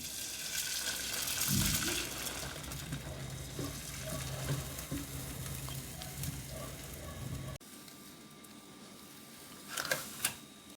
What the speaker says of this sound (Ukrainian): Із яєчної суміші смажу звичайні млинці.